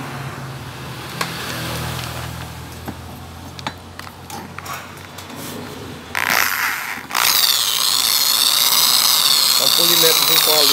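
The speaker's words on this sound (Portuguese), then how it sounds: "Polimento junto com a lixa, né?" A power tool polishes and sands a 50cc jet duct, giving off brief buzzing bursts and then a sustained high whine, with people talking nearby.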